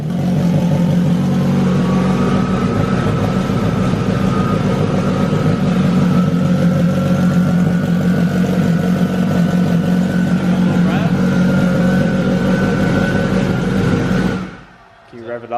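A 2007 Yamaha R1 motorcycle engine runs loud and steady from the start, with a sustained roar and some revving, then cuts out abruptly near the end.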